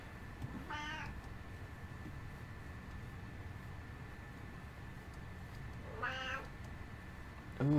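A cat in the Minecraft video game meows twice, several seconds apart, each a short wavering mew over a steady background hiss of game ambience.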